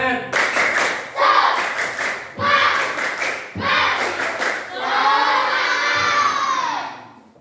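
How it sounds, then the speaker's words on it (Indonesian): A class of children claps the rhythmic tepuk semangat spirit clap, quick patterned bursts of hand claps mixed with chanting voices, ending in a loud drawn-out group shout. "Mari kita tepuk semangat dulu."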